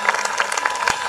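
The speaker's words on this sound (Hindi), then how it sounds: "एक बार नारद जी के लिए ताली बजाओ।" An audience at a Hindu religious discourse claps together, a short, loud burst of crowded hand claps heard up close in one dense flurry.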